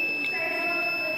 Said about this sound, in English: you can see the buzzer has started, and this indicates that the fire is there